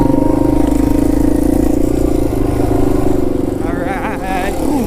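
A Yamaha TW200 dual sport motorcycle runs steadily on dirt hills, a loud, close, buzzing single-cylinder drone with slight throttle shifts, while a rider talks over it.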